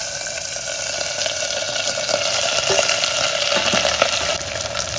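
Cumin, black pepper, shallots and green chillies sizzle in a hot pan, a steady close crackling hiss running throughout without pause.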